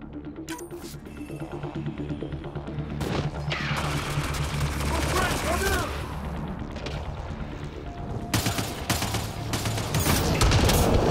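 A firefight in the video game Mass Effect: Andromeda, with dense bursts of gunfire and booming impacts rattling on for several seconds.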